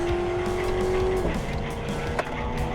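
Ford Crown Victoria police cruiser driving hard on a race track, engine roaring steadily from inside the cabin with a held tone that drops as it shifts, then a brief scrape or bump.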